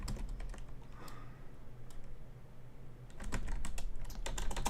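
Continuous clacking of keys on a computer keyboard, steady rapid taps close by, growing a little louder and busier in the last second and a half, with no voices.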